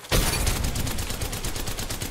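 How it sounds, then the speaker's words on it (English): Rapid video game gunfire in a ranked shooter match, a dense sustained burst of automatic shots rattling loudly and evenly for about two seconds with no talk over it. "I'm shooting where he was."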